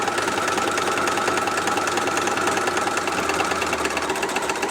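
A sewing machine stitching around a fabric placemat gives a steady, close mechanical whir with a fast, even needle rhythm. It runs without pause for nearly five seconds, and no one speaks.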